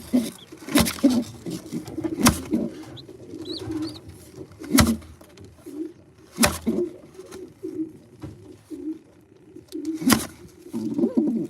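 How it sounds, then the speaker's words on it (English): Racing pigeons coo softly and steadily inside a loft, with sharp wing flaps and scuffling bursts breaking in every few seconds. "sounds like the birds just took back off."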